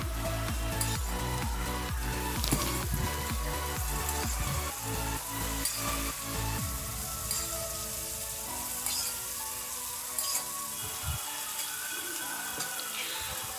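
Chicken, potato and papaya sautéed in a pan, giving a loud steady sizzle and frying hiss with scraping and stirring clatter throughout, near and alone.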